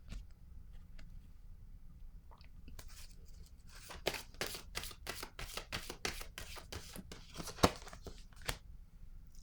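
Tarot cards are riffled and handled up close in a quiet room, a burst of quick crisp flicks in the middle, a sharp snap near the end, then softer shuffling.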